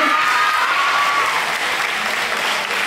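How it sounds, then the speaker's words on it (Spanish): Dense, steady applause from an audience at a quinceañera party show fills the whole stretch, loud and close, with no voices over it. "fuerte el aplauso para mi comadre"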